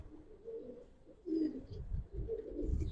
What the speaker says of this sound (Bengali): আচ্ছা এটা একটা মাদি কবুতর